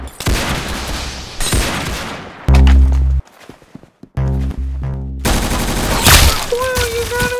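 Rapid bursts of gunfire and single shots ring out in the video game Arsenal, loud and close, with short gaps and hard thuds between volleys.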